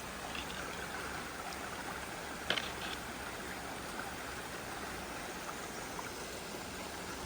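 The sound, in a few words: surface water runoff flowing into Ammonoosuc River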